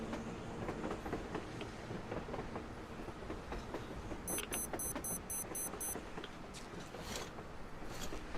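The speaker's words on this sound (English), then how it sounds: "A train! A damn train on the surface!" A train rumbles and clatters across the surface in the post-apocalyptic shooter Metro Exodus, a steady mechanical clickety-clack under a wash of noise, with a quick run of high bell-like beeps midway. No speech.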